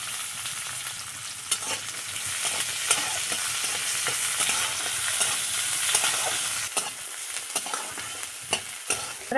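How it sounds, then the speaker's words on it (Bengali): Onion and garlic frying with black cumin, dried and green chilies in hot oil, a close, continuous sizzle with repeated sharp stirring clicks and scrapes of a spoon against the pan. "এখানে নিয়ে নিয়েছি এই যে পেঁয়াজ আর রসুন, একসঙ্গে দিয়ে ভেজে নেব"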